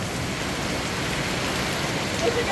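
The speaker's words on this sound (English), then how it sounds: "It is coming down so hard and fast, and it literally has bent the guttering." Heavy rain pours down hard and fast outside a storage locker unit, overflowing and bending the guttering. It makes a steady, dense, loud hiss throughout with no pauses.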